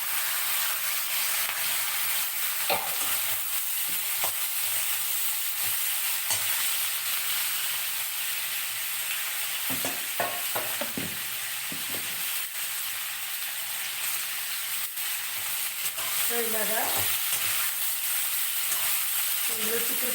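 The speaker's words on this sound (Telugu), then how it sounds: "ఉల్లిపాయలు వేసేసి బాగా వీటిని వేగనివ్వండి" Broad beans and onions frying in a pan with a steady loud sizzle, punctuated by scraping and clinking as a spoon stirs them through, close up.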